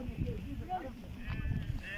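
Sheep bleating repeatedly nearby on a mountain pasture, wavering calls overlapping with some low rumbling and a voice in the background.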